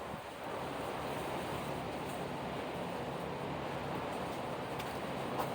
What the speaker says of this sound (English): The wind's starting to kick up